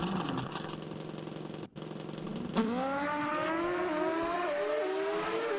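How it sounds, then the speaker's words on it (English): A 4-cylinder nitrous-oxide-injected drag racing car, carbureted or EFI, drones steadily at first, then its engine note jumps sharply and climbs in pitch as it launches and pulls hard, loud and close. "These are 4-cylinder nitrous oxide injected machines, sometimes carbureted with electrons, sometimes with the EFI."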